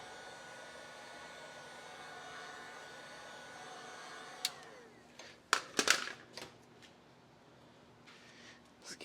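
Heat gun blowing a steady, fairly quiet hiss while warming Kilmat sound deadener in a Subaru STi trunk, then cutting off, followed by a few crinkling handling noises.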